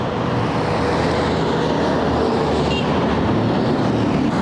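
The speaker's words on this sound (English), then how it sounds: "That's the traffic." Steady street traffic in north Bogota, with long Transmilenio buses among the cars, forms a dense continuous roar of engines and tires close by, with no talk.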